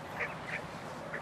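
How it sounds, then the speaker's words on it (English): Ducks quacking at Moncton Zoo, three short nasal calls spaced across a moment, fairly close and clear over a light outdoor background hiss, with no talking. "I touched a duck."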